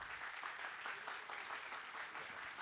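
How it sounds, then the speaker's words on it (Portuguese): An audience at a book fair event applauds as the guest Hélio de Seixas Guimarães comes on stage, a steady, moderately distant patter of many hands clapping without pause. "Palmas para o Hélio"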